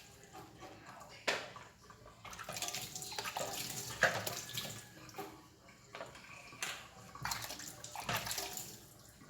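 Water runs and splashes from a tap into a basin while squash is washed for cooking, with uneven bursts and trickles close by and faint voices now and then.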